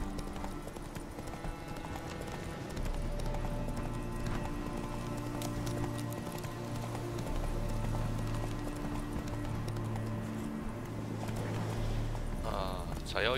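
Roach the horse galloping in The Witcher 3, a steady clip-clop of hooves over continuous game music and ambience, with a brief whinny-like burst near the end.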